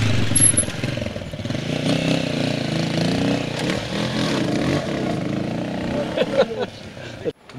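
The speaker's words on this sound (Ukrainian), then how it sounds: "Проте навіть попереджувальні знаки не зупиняють окремих мотоциклістів." Motorcycles ride across the Old Bridge, with a steady engine drone and revving throughout, close and fairly loud, while people talk over it and a brief clatter comes near the end.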